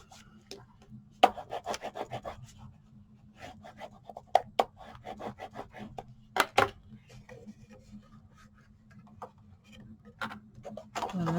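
Repeated rubbing and rasping strokes of paper being burnished for a folio, in short uneven bursts with a low steady hum underneath and occasional sharper scrapes.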